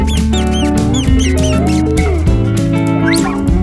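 Several quick, high squeaks from a hamster in a 3D animal slides video game pop out over bouncy background music.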